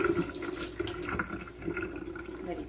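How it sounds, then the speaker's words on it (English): Hot water pours over strained, canned ackee in a kitchen as Jamaican ackee and saltfish is cooked, a steady gurgling, splashing stream running for a few seconds with uneven surges, close and alone. "So now I'm going to pour some hot water over the ackee."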